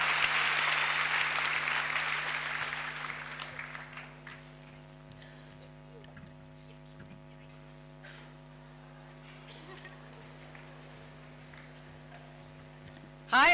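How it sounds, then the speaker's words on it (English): Audience applause welcoming a speaker to the stage at a leadership congress, a full crowd clapping loudly at first and then fading over several seconds into a quiet room hum. "Let's welcome Julie with a big applause."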